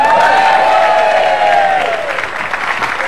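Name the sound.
studio audience applause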